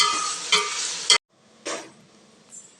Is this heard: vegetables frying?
yes